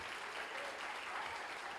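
A church congregation applauds during a service, a steady wash of many hands clapping, heard faintly from a distance without a break.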